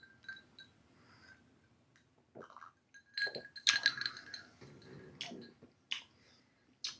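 A glass of apple cider from upstate New York gives a few light clinks as it is handled and set down. Sharp, bright, scattered ticks sound close but faint, with soft handling noise in between.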